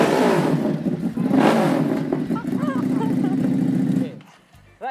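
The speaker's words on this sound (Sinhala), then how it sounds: "මම ඇත්තටම මේක රේව් කරද්දි RPM 3000න් එහාට රේවුන්නේ නැහැ" A brand new Honda motorcycle is revved hard close by, the engine note climbing and holding at a loud buzzing pitch before dropping away. A voice speaks briefly at the very end.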